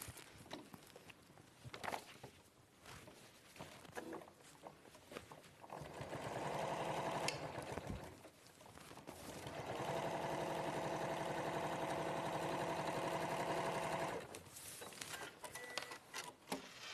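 A sewing machine stitches fabric outer and lining together along a quarter-inch seam in two quiet, steady runs, a short pause between them, with soft handling noises before and after.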